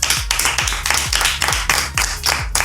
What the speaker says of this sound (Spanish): un aplauso para Irán.